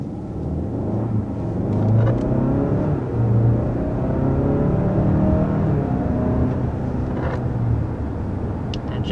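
A 2021 Kia Sorento SUV engine rumbles and revs steadily as it accelerates hard to 60 mph, a continuous loud drone with rising whir and no talking.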